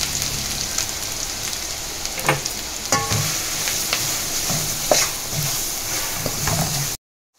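Grated carrot frying in hot oil with mustard seeds, cumin and turmeric gives a steady, close sizzle. Brief scrapes of stirring and small pops break through it, with no talking.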